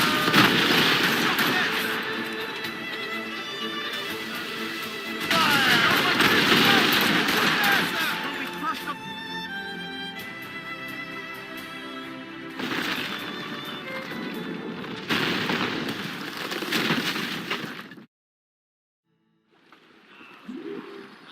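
Ship cannons fire in a naval battle in Assassin's Creed Rogue. Heavy booming volleys come in several bursts, mixed with crew shouts and game music, and a short silence falls near the end.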